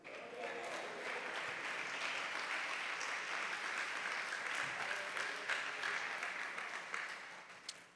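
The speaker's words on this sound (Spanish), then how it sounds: "Dele un aplauso al Señor." Faint, steady applause from a church congregation fills the room, even and continuous throughout.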